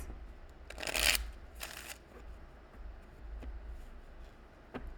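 Oracle cards for a love reading being shuffled, with two brief riffling bursts near the start followed by soft taps and clicks as cards are pulled, quiet and close.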